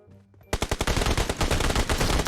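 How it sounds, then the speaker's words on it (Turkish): Rifle fire from SKS and SLR weapons in an online shooter game. After a quiet start, a loud, fast burst of closely spaced shots runs without a break to the end. "Aa tepeden biri daha sıkıyor."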